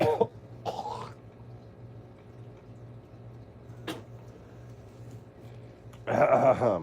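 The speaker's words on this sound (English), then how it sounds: "to hear me cough up my lungs" A person coughs and clears their throat a few times, in short bursts separated by quiet, with one louder, rougher burst at the end.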